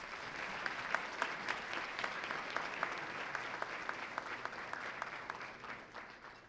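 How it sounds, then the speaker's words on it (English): Applause at a Hispanic advisory council luncheon in Tampa, many hands clapping steadily in a large room with some distinct claps popping out, sustained and fairly distant throughout. "Let's give them all a huge round of applause."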